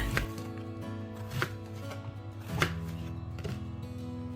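A knife chops through eggplant on a board, a few distinct cuts spaced about a second apart over a steady background hum.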